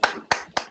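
Three distinct sharp claps in quick succession, close and fairly loud, following a lecture.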